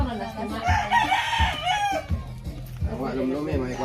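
A chicken crows in a rural setting, a loud, drawn-out call near the start with clucking and other fowl sounds after it, while people talk nearby.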